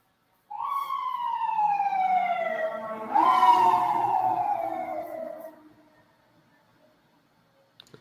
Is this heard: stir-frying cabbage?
no